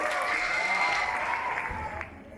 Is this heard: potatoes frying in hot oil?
no